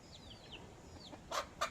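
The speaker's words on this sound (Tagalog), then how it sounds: "Ayan ang mga manok" Farm chickens with chicks near a hut: thin high chick peeps drift by early, then two louder, closer clucks sound at the end against quiet surroundings.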